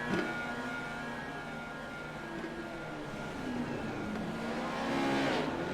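A race car engine revs and drones while the car fails to get rolling at a dirt track all-star event. The steady loud engine tone swells and then falls away, with another engine rising near the end.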